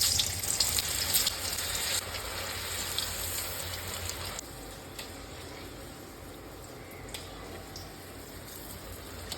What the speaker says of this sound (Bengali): এরপর আমি কোপ্তাগুলোকে একে একে ভেজে নেব